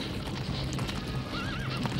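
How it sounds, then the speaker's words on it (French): Horses neigh and their hooves clip-clop in a dense, noisy scene from the Hercules and Iolaus story about Diomedes' horses, with a steady rumble of movement and a brief wavering whinny near the end. "Les chevaux de Diomède, ce nouveau fléau qu'Héra infligé à Mycène, allait compter au nombre des travaux d'Hercule."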